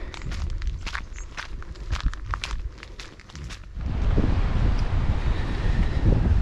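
Footsteps walking on a bush track toward a campsite in South Australia, a run of distinct crunching steps close to the microphone, then giving way to strong wind buffeting the microphone.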